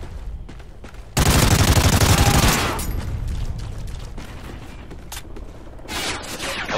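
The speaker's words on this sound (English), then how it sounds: "I love the sound of this weapon" Gunfire from the Warhawk weapon in Call of Duty: Ghosts, heard during a Free For All match in a small town: a loud, dense burst of rapid shots lasting a second or so, then quieter scattered game noise and a few distant pops.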